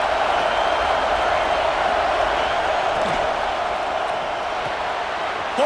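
Dense, steady roar of a stadium crowd in the EA Sports College Football 26 video game, a continuous wash of noise that holds level throughout and stays loud.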